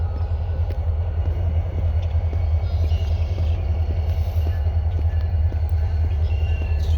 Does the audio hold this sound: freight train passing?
yes